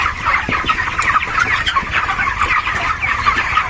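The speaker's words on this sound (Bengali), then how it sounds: "মনে হচ্ছে দেখে যেন মুরগি আছে ফার্মে।" Dense clucking from many chickens fills a poultry farm house where the birds are 27 days old, a busy overlapping chorus at steady volume throughout with no talk.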